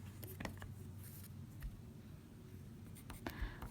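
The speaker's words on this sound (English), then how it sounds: "I'm going to go ahead and write down" A chemistry answer written by hand, with close, faint pen scratches and light taps in short bursts over quiet room noise.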